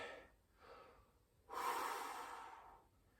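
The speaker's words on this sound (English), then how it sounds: "Deep breathing again." Deep breathing during a floor exercise routine: a few slow, audible breaths, ending in one long, strong exhale that fades, close and alone with no speech.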